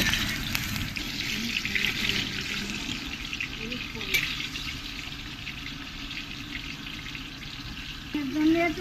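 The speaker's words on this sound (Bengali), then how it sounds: "আলুগুলো লাল লাল করে একটু ভালো করে ভেজে নেব" Potatoes frying in a pan for a village-style chicken curry, a steady broadband sizzle and hiss running throughout at moderate level, with a brief clatter near the end.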